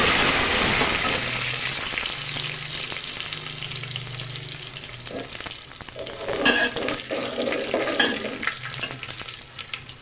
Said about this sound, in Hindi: उसके बाद हम इसमें डाल देंगे कुटी हुई लाल मिर्चें।